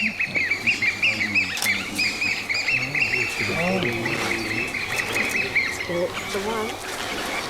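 Weka, a flightless New Zealand bird, calling in a run of repeated squawking, honking cries close by, with a person talking quietly in the background.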